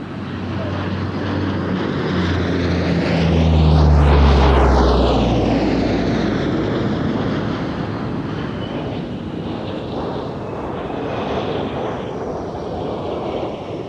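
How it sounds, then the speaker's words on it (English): A C-130 turboprop at an airshow sweeps past loudly, its deep propeller drone swelling to a close peak then fading as the pass continues, with strong low engine rumble and shifting pitch. "Team C-130 is next, followed closely by a KC-135 tanker with its refueling boom extended."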